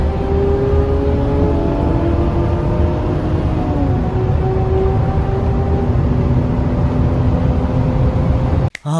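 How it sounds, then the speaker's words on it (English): Automatic Lexus GS300 accelerating hard in a quick test at an autocross event, its engine note climbing steadily through the revs in a loud, continuous whine with wind rush, ending abruptly with a short knock. "Here's a quick acceleration test"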